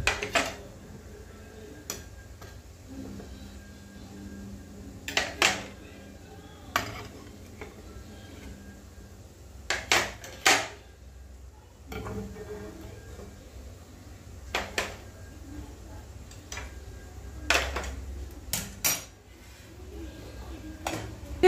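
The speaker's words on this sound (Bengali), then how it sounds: "আমি একটা চামচের সাহায্যে আমি ডিমটাকে সাইড সাইড থেকে খুব ভালো করে তুলে নিচ্ছি" A metal spoon scrapes and clinks against bowls while steamed eggs are lifted out from the sides, giving scattered sharp taps and scrapes in a quiet kitchen, with long pauses between the bursts.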